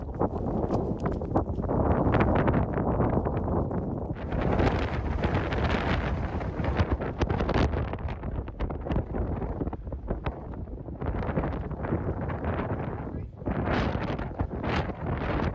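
Strong mountain wind roars across a high saddle on a hike in Glacier National Park, buffeting the microphone in loud continuous gusts that swell and ease for the whole stretch, with rustling mixed in.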